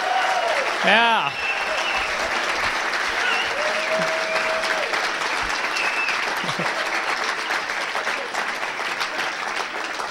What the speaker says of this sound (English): Big round of applause for Sid Koop.